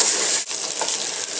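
A filling of raisins, olives and olive oil is stirred in a hot pan, a close, bright sizzle with brief scraping pauses from the stirring.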